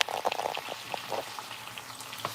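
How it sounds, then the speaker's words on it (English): Food sautéing in a small amount of oil gives a soft, irregular crackle and spatter with a few brighter pops, steady and moderately close, with no talking. "I'm sauteing this stuff"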